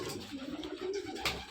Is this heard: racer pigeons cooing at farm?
yes